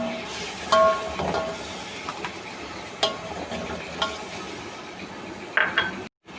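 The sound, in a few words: yogurt added and stirred into tomato masala in a pot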